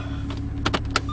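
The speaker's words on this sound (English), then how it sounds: "now I'm going to shut my terrible sunroof. One touch, just closes." Electric sunroof on a Porsche 911 996.2 Tiptronic closing with one touch: a close, brief whirring motor with a few soft mechanical clicks and thunks inside the car, no talking.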